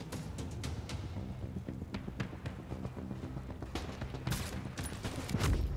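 Video game gunfire in a hard-mode battle at Grand Central Station, a dense rapid fusillade of sharp shots running continuously with a louder burst near the end.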